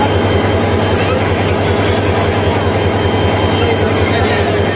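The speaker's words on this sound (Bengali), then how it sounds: "আরও একটি ট্রেন কিন্তু এখন এক নম্বর লাইনে প্রবেশ করছে" A packed commuter train pulls into platform one of a railway station in Gazipur, its steady low engine rumble and broadband rail noise continuous and fairly loud throughout, with crowd chatter mixed in.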